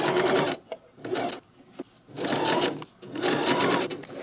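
A sewing machine stitches a tote bag strap in three loud, rapid whirring runs separated by short pauses.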